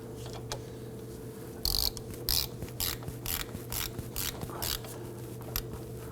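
A ratchet snugs down the front lower control arm bolts on a 2008-2011 Ford Focus, clicking in quick, close bursts of several pawl clicks with short pauses between strokes, against a low steady hum.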